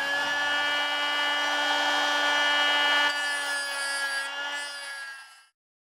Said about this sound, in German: schleifen wir sie hier noch runter